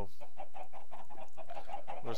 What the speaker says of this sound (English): we're just going to put a bunch of chickens in there.